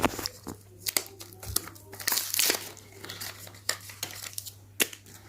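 A toy box package is opened by hand, with bursts of crinkling plastic wrapping and tearing in an uneven rhythm at close range under a steady low hum.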